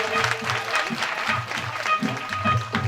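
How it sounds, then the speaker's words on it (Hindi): Crowd clapping during a live Bhagavat Katha religious gathering in Agra, a brisk patter of many hands over rhythmic music and chanting voices, fairly loud and continuous. "एक बार ताली बजा दें श्रीमान देव गाड़ी से"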